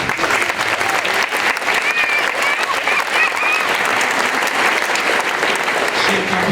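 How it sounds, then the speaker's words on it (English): Audience at a spring high school vocal concert gives a round of applause, loud, steady clapping that stays close and full throughout, with a faint whistle or cheer rising partway through. "Let's give her a round of applause."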